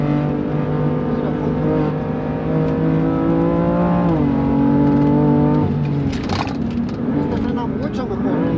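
A BMW M3 engine revs hard on a race circuit, a loud, close, steady mechanical drone whose pitch climbs, dips on a gear change, then rises again, with a voice talking over it.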